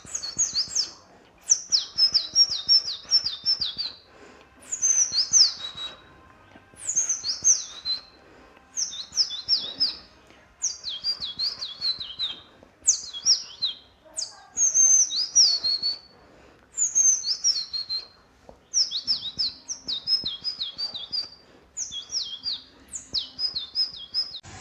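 A voice imitates bird song with the mouth, producing repeated bursts of high, warbling chirps and whistles in a regular rhythm, each phrase separated by short pauses, close and clear with no other sound.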